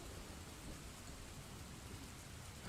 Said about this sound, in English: you hear the rain, like a little bit of it. It's beautiful, isn't it?